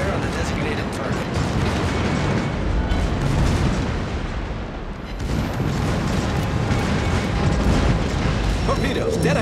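Heavy naval gunfire in World of Warships, with booming salvos from warship guns rolling continuously over dense battle noise, loud and near, with a voice speaking over it.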